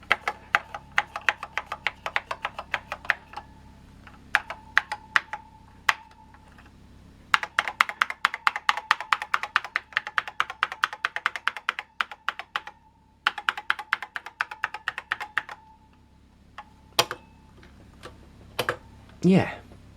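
Keys are typed on a vintage Einstein computer keyboard, with close, rapid bursts of clicking broken by short pauses and a few louder knocks near the end.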